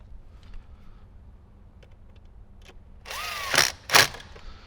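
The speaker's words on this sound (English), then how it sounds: "grab one of your screws and get it screwed back in" A power drill drives a screw back in during a Rockford Fosgate Stage 5 audio install on a Jeep JL Wrangler. After quiet handling, two short, loud whirring bursts follow close together.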